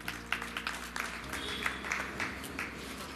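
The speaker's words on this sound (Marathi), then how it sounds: "सगळ्या कोरोना योद्ध्यांसाठी एकदा जोरदार टाळ्या होऊ द्या." Applause from an anniversary celebration audience honoring Corona warriors, scattered claps forming a moderate, uneven patter heard at a distance, with background talk.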